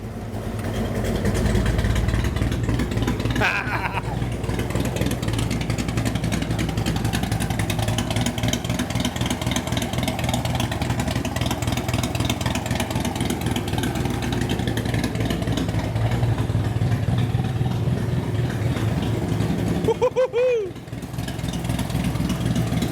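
A loud, throaty race car engine with its exhaust cutouts open rumbles steadily, idling and revving, briefly blipping the throttle near the end.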